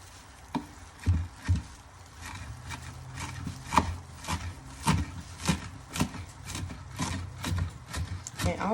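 A knife chopping parsley finely on a board, a run of quick, irregular close taps and cuts with soft rubbing in between, steady and moderately loud.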